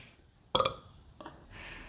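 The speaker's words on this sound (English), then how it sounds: "you breathe in through the nose and belch out the last bit" A single deliberate belch released after a breath drawn in through the nose during a vocal warm-up exercise, a loud short burst followed by a quieter trailing puff and breathy exhale, with no talking.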